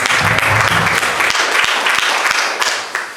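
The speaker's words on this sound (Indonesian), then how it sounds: "Tepuk tangan buat Yesus" A church congregation bursts into applause for Jesus during an evangelist's sermon, steady dense clapping filling the room for several seconds with a few sharper individual claps standing out.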